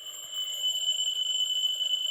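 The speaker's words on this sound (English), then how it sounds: "the alarm kind of goes off like this" An alarm clock rings with a steady, piercing electronic tone, loud and continuous throughout, with no voices.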